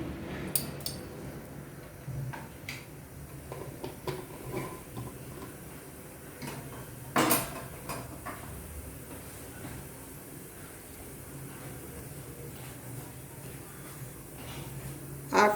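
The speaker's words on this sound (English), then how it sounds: "after the jeera splutters" Cumin seeds sputter in hot groundnut oil, scattered soft pops and crackles over a quiet background, with one sharper burst partway through and more pops near the end.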